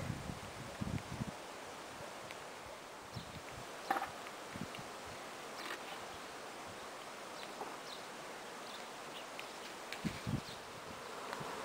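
Honeybees busy at the entrance landing board of a 12-frame Dadant hive set on metal bars over blocks, a steady outdoor buzzing hum with occasional closer passes and light rustling, no talk.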